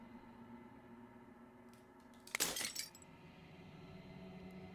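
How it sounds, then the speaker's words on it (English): Glass shatters in a brief, bright burst in the video game Slay the Princess, lasting under a second and rising out of a quiet, steady ambient hum with a few faint clinks around it. "As the final fragment of glass shatters"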